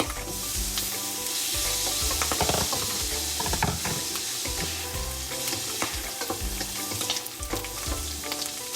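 Garlic and onion sauté in a pan with a loud crackling sizzle, punctuated by repeated spatula scrapes and stirring knocks, close up and continuous without speech.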